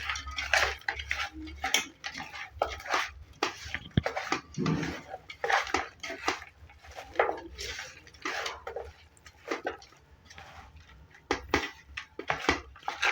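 Hyderabadi dum biryani ingredients with mint being mixed by hand in a pot, giving repeated clinks, scrapes and clatters of metal cookware at close range, with a low hum underneath.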